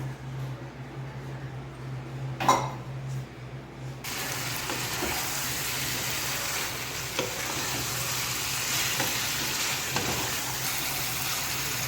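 Boiled eggs go into a biryani gravy with coriander and mint, starting with a sharp clatter and a low hum, then a steady bubbling sizzle that carries on evenly with no talk.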